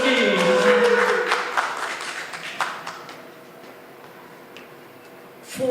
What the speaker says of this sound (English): Big round of applause for Ski!